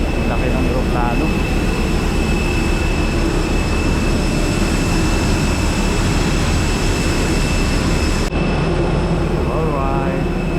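Large airliner engines at a Manila airport, a loud, steady broadband roar with a constant high whine running throughout, close and continuous, with faint voices in the background.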